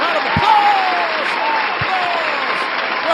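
Steady crowd applause for a guest at a live mock draft event, dense clapping that stays loud and even throughout, with a couple of low thumps beneath.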